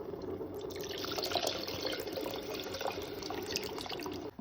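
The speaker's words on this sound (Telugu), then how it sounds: "కొంచెం వాటర్ వేస్తున్నాను." Water pours steadily into a pot for a fenugreek and tamarind stew, a continuous close splashing stream that lasts several seconds and cuts off at the end.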